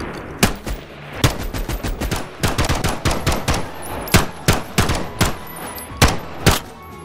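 Rapid bursts of gunfire from two guns dual-wielded in the VR game Bonelab, sharp loud shots in irregular clusters and quick volleys, some shots spaced apart, with no talking.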